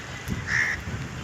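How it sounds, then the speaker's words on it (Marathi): A single faint caw rings out in a sunlit forest, a crow calling briefly over quiet, steady outdoor ambience. "कावळ्याची चिवचिवपणा हे सगळं ऐकून मन एकदम भारावून गेलं"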